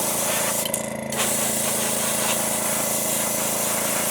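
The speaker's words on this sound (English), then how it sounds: "we will start out putting our base coat on with Createx opaque white that we usually use" Createx opaque white base coat paint spraying from an airbrush, a steady close hiss running throughout with a brief louder burst near the start.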